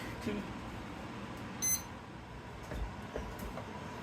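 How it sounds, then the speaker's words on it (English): A kitchen oven timer gives one brief, high beep burst while crescent cinnamon rolls bake, standing out against quiet room noise. "Okay, my timer just went off."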